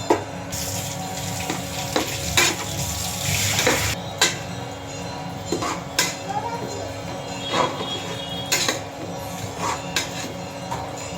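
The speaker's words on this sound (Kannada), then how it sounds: "ಇದು ಫ್ರೈ ಆಗ್ತಾ ಇದೆ" Chicken biryani ingredients frying in a pan, a steady close sizzle with intermittent stirring scrapes and clatters through the whole stretch, no talking.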